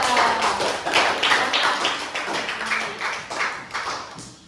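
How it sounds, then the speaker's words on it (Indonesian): A school class claps for group 3 after its presentation, a moderately close burst of hand claps with a loose, uneven rhythm that rises and falls in waves over several seconds, with no talking. "tepuk tangan untuk kelompok 3"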